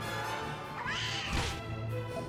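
Cat enemy meowing in Dragon Quest VIII, a single rising-and-falling mew near the middle over steady game music.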